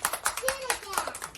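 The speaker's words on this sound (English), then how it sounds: "Let's clap our hands." Several people clap their hands in a quick, steady rhythm during a sing-along, with voices singing over the sharp, close claps.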